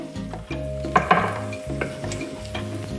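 Veggie sausage is broken up and stirred into gravy in a pan, producing close scraping and clacking utensil strokes over a continuous bubbling sizzle, with no voices.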